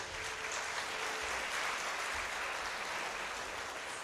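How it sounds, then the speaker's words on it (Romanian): Applause from the audience at a classical music festival concert in Moldova, a dense, even patter of clapping that holds steady throughout the short stretch. "Aplauze!"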